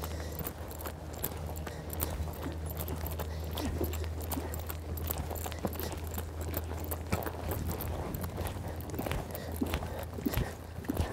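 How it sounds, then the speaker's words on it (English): A young eventing horse canters with soft, irregular hoofbeats thudding on the ground in a rolling rhythm over a steady low hum, with faint jingling and rustling. "this horse has got quite a big canter"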